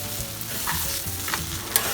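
Flattened rice upma frying in a pan while being stirred: a close, steady sizzle with soft scraping strokes recurring every half second or so.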